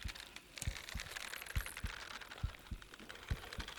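A hooked fish in a Bassmaster fishing video game gives off a soft, faint heartbeat, low regular thumps about every second under quiet background noise.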